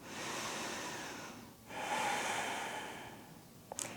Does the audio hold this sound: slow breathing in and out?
yes